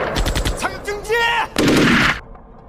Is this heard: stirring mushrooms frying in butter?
no